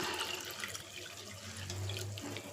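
Water runs steadily from a tap into a vessel, a continuous close splashing stream with a faint low hum underneath, no voices.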